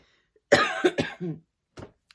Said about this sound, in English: Sorry, as you can tell, I'm still coughing.